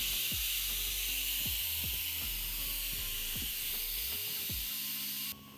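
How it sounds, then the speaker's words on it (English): An Instant Pot pressure cooker, cooking beef pho, vents its remaining steam through the release valve as a steady, loud hiss. Low-pitched thumps and clicks sound underneath it, and the hiss drops off abruptly just before the end. "We're just going to switch the valve to vent and release the remaining pressure."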